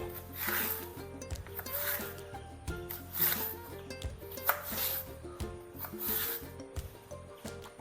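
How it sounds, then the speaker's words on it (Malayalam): A knife slices banana peel lengthwise into thin strips, with soft rubbing, scraping strokes repeating in a steady rhythm, close and moderately loud. "ഈ തൊലി നമുക്ക് നീളത്തിൽ ഇതേപോലെ ചെറിയ പീസുകളാക്കിയിട്ട് ഇങ്ങനെ കട്ട് ചെയ്തെടുക്കുക"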